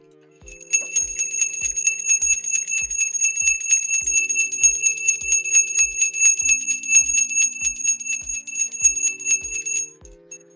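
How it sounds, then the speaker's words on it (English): A bell signals the US stock market open, ringing loudly and alone in a rapid, steady stream of metallic strikes that lasts about nine seconds before stopping. "The bell is ready."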